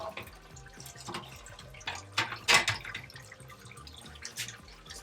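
Wort drains from a lifted grain basket in a Grainfather G40 during an all-grain IPA brew, trickling and dripping steadily into the vessel below with a few louder splashes, close and fairly quiet.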